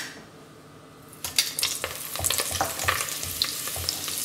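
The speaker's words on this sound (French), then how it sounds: "d'huile dans une cocotte. Commencer à faire chauffer. Voilà. On va rajouter le beurre." Butter melting into hot oil in a cooking pot, preparing a wild boar daube: a loud, close, steady sizzle that bursts in after a quiet start and keeps crackling unevenly.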